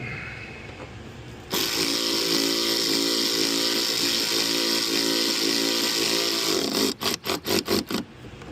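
A power tool whirs steadily for several seconds while tightening splash guard bolts on a 2023 Jeep Wrangler, then ends in a quick series of impact-like bursts and pulses, close and loud.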